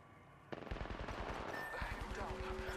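Rapid automatic gunfire in an Apex Legends firefight, a steady stream of loud close shots starting abruptly and running to the end, with game voices and effects over it.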